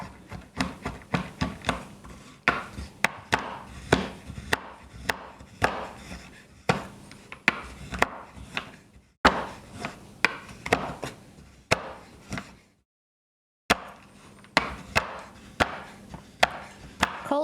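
A knife chops chocolate on a board in a steady run of sharp, close thunks with a short pause partway through, and no voices over it.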